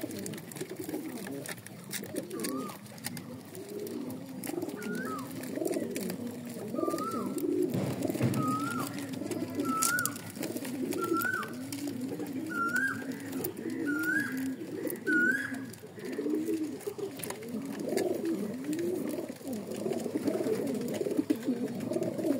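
Breeding pigeons, cocks and hens, coo repeatedly in a loft, a steady chorus of soft throaty calls rising and falling close by, with occasional wing and shuffling noises.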